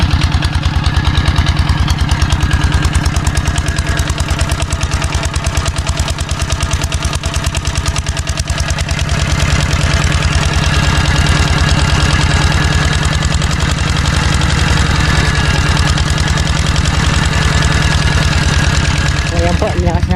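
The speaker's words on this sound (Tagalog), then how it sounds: "malakas ko lang po yung makina para uh, mabilis po tayong makauwi" A boat engine drones loudly and continuously, its rapid chugging pulse steady throughout, with a voice faintly audible under the noise.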